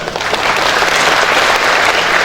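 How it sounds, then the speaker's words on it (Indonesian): Steady, loud applause from a seminar audience, dense clapping filling the whole stretch without pause. "boleh tepuk tangan"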